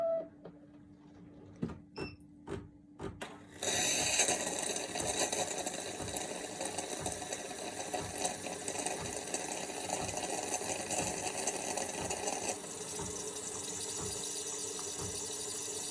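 A milk frother machine froths milk for hot chocolate, giving a loud, steady whirring drone that lasts over ten seconds. A few short clicks and knocks come before it starts.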